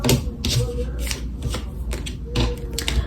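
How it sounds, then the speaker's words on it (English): Playing cards are shuffled up close in quick riffling bursts, a crisp rapid flutter repeating several times. "the same 3 cards again, and I did shuffle"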